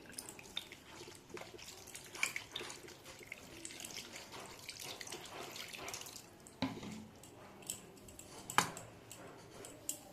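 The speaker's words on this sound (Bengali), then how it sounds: "ছানাটার মধ্যে ঠান্ডা জল দিয়ে ভালো করে ধুয়ে রাখবো।" Cold water runs over freshly made chhana cheese curds to wash them, a faint trickle with small splashes and occasional light clinks of a bowl close by.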